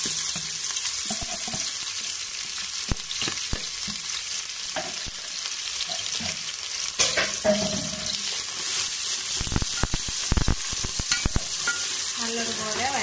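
Sliced onions sautéing in oil for a Kozhikode-style beef biryani, a continuous close sizzle with repeated spoon scrapes and clinks against the pan throughout, no voices.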